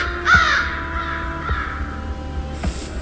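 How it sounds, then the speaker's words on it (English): A startled crow in a snowy winter video game shrieks a harsh, angry caw close by, followed by a second fainter call and a high sharp cry near the end, over a steady windy background. "A startled crow suddenly shrieks out in anger."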